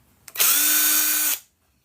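Impact drill set to drill mode, unscrewing screws from small electronics being scrapped, a single loud, close whir lasting about a second with a sharp start and clean stop.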